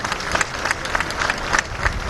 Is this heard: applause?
yes